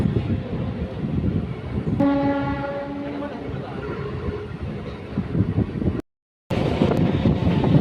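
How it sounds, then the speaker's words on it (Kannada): A train pulls out of Kempegowda Airport station, its horn sounding in a sustained layered blast over the steady rumble and rattle of the carriages, with a brief dropout near the end. "ಒಂದು ನಿಮಿಷದ ನಂತರ ನಮ್ಮ ಟ್ರೈನು ಕೆಂಪೇಗೌಡ ಏರ್ಪೋರ್ಟ್ ಬಿಡ್ತಾ ಇದೆ"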